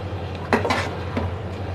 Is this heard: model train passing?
no